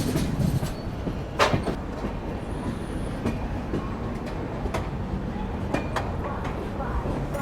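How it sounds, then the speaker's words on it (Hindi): An Indian express train pulls into Satna Junction railway station with a WAP-9 locomotive, wheels clacking and rumbling steadily nearby, with brief squeals and bursts of crowd noise and station chatter over the din. "8:05 पे अराइवल हो रहा है अपना सतना जंक्शन रेलवे स्टेशन पे।"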